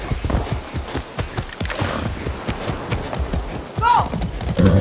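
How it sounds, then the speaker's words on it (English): Horse hooves clip-clopping at a steady trot in the video game Far Cry 6, a fast even rhythm of close, distinct hoofbeats with someone talking over them. "That's a good horse."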